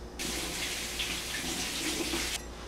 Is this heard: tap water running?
yes